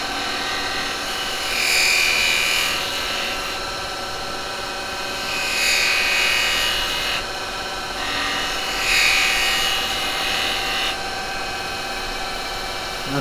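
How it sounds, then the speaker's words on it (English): A detail chisel cuts the top edge of wood spinning on a lathe. It sounds like a steady whirring motor hum with three louder, hissing scraping passes, close and continuous, with no talking. "I'm going to come across that with the detail chisel and hopefully get that to just take that top edge off of it."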